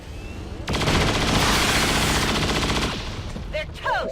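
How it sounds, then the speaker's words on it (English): A long, loud burst of rapid automatic gunfire from saturation fire in the video game XCOM 2 lasts about two seconds and then cuts off, followed by a few short electronic chirps. "That was a very good saturation fire."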